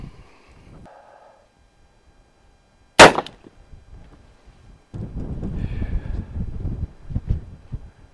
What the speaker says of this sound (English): I'll be shooting the same cartridge. It's that buffalo bore, 340 grain.